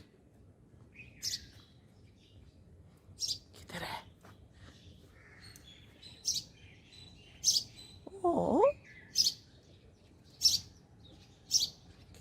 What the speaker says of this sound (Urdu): پتہ چڑیا کی آواز بڑی اچھی آ رہی ہے اس درخت میں سے